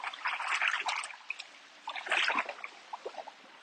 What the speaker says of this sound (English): drag it in long, sweeping motion to force water inside the main water compartment